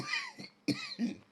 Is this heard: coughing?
yes